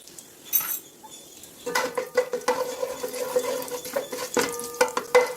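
Whole cardamom, cloves and cinnamon fry in hot sesame oil for a Chettinad quail pepper gravy, with a steady soft sizzle under repeated clinks and scrapes of a spoon stirring against the metal pan, close and moderately loud.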